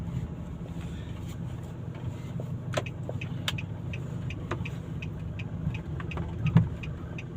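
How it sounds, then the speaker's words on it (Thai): A customer's car pulls out along a roadside on the way to a rice-field café, a low steady engine hum with scattered light clicks and rattles, fairly close and unbroken. "รถลูกค้าออกมาพอดีครับ"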